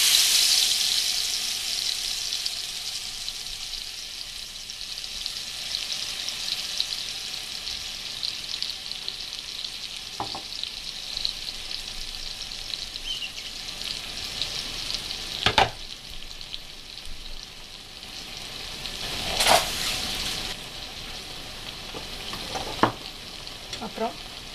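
Ground spice paste for arbi roast frying in hot oil, a steady close sizzle throughout with occasional scrapes and clatters of stirring.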